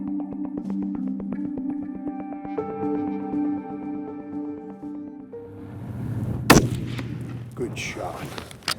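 A single loud rifle shot at a big game animal during a snowy hunt, a sharp blast near the middle followed by rumbling echo, with a steady tonal hum beforehand.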